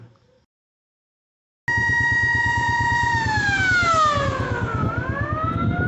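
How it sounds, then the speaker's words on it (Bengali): A fire service vehicle's siren bursts on loud and close after near silence, a steady wailing tone that dips and bends in pitch as the truck passes, over a rumbling engine. "এটা অ্যাম্বুলেন্স না, এটা ফায়ার সার্ভিসের একটা গাড়ি"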